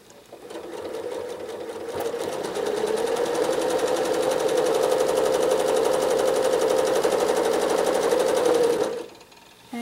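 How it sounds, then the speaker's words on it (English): A sewing machine runs continuously while free motion quilting a trapped paisley design, its rapid needle rattle and motor hum building up steadily and holding loud and close before stopping near the end. "so I'm going to stitch a couple flowing lines back to back"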